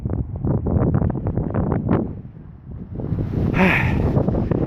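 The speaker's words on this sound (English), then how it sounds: "I'll get out of the wind." Wind blowing outdoors in a wooded spot beside a fungus-covered log, buffeting the microphone with steady low rumbling gusts that ease briefly midway and then pick up again.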